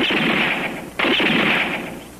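Rapid sustained gunfire from a 1978 film, a dense loud burst of automatic shots that breaks briefly and then resumes before fading.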